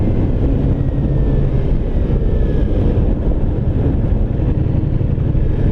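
Steady, loud motorcycle engine drone while riding at easy throttle near the beach, a continuous low rumble mixed with wind rush and no breaks.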